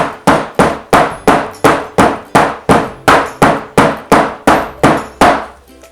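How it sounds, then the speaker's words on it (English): A soap mold full of fresh pear soap batter gets rapped down on a hard surface, about fourteen sharp, loud knocks at an even, quick rhythm, with nothing else heard. "Let's give that a tap down."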